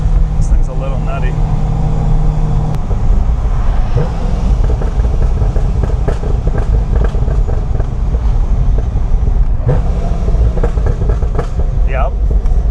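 A heavily modified Chevrolet C6 Corvette with huge low-rpm torque, its engine giving a deep loud rumbling idle with uneven compression pulses and occasional revs, close, with people talking over it.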